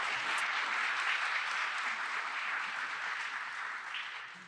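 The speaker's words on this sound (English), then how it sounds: "Please join me in a round of applause for everybody who has done so much to make this possible." A room of people at a press briefing on public housing internet access applauds in a dense, even patter of many hands that fades slightly toward the end.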